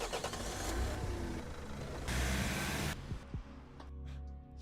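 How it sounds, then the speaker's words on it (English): Car sound effect for a tank game made at the GMTK Game Jam: a loud, dense engine roar that changes character a few times, then drops to a lower, steadier hum near the end. "Some kind of a car sound"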